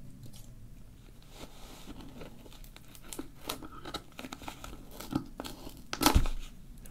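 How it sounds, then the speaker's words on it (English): Crinkly tearing and snipping as scissors cut through packaging, a string of short crisp bursts ending in a louder crunch close by. "This doesn't look very promising, so I'm going to use my trusty scissors."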